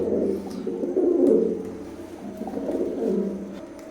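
Teddy pigeons, an imported Oman-bloodline breed, coo close by in soft, throaty rolling calls, two or three drawn-out coos repeating over a quiet background.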